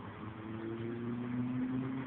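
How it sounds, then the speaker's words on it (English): Steady road traffic rumbles past near a bus stop and trail at dusk, a continuous engine drone with a low hum holding throughout, moderately loud and without talking. "Whew, look at all that traffic."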